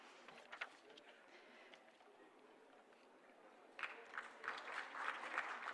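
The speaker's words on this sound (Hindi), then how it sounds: "huge round of applause for Rochi Malina from Mizoram" Faint applause from a conference audience, scattered at first, then swelling louder in the final seconds, with some background voices underneath.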